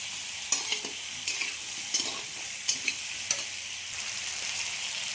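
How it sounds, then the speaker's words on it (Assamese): Vegetables fry in a pan with turmeric while they are being made with chicken. A quiet, continuous sizzle runs throughout, broken by several sharp scrapes and clinks of a spoon stirring against the pan. "এইখিনি অকণমান হালধি দি ভাজিছোঁ"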